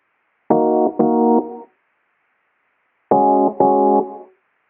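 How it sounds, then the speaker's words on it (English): Rhodes electric piano programmed in FL Studio without automation, two short sustained chords each struck twice in quick succession, clean and bright with silence between the pairs. "For the wow sound I've used Rhodes, and this is how it sounds without automatization."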